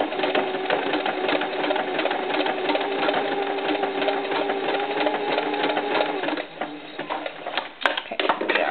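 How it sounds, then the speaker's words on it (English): Sewing machine stitching a knit tank top for a doll, running steadily and fairly loud with a continuous whirring hum for about six seconds, then slowing to a softer intermittent run with a few small clicks near the end. "let's go sew it again"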